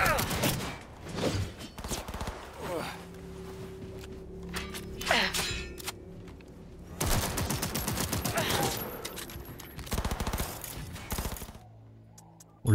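Bursts of automatic gunfire in the video game Cyberpunk 2077: Phantom Liberty, coming in several loud volleys with short gaps, mixed with game effects and a voice speaking over parts of it.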